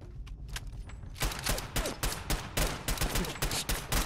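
Rapid bursts of automatic gunfire from a Fallout 4 firefight, starting with a few scattered shots and then building into a dense, loud, close volley of repeated cracks with no talking.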